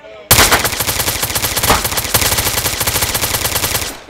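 Rapid, sustained gunfire from a silenced Glock G17 pistol in the video game Revenge, a loud close burst of fast repeated shots running continuously for several seconds.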